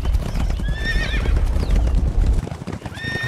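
Horses with clip-clop hooves and repeated neighs and whinnies, steady and fairly loud throughout, no talking.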